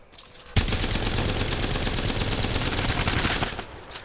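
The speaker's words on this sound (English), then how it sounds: "I'll grab the Havoc because I'm really good at shooting faraway targets with the Havoc." Rapid, sustained automatic fire from a Havoc rifle in a PS4 shooter, a loud continuous stream of shots lasting about three seconds with no talk over it.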